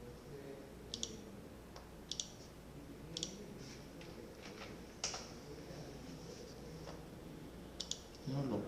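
A series of sharp, light mouse clicks, single and doubled, spaced a second or so apart, with faint talk underneath.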